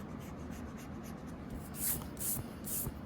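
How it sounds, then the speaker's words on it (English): A pencil eraser rubs out letter lines on paper in three short, scratchy strokes near the end, each a soft close-up swish over faint room hiss. "So you can go ahead and erase the center."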